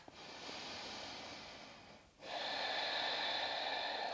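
Long, steady breathing during a yoga practice: a sustained airy inhale, a brief pause, then a fuller, louder exhale through the nose, close and with no talking.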